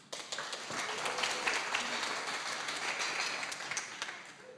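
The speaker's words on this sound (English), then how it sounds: "Please, a round of applause para may alam mo." An on-site audience at a hybrid business-events webinar gives a round of applause: dense, even clapping that starts sharply and holds at a steady level before tapering slightly, with no speech over it.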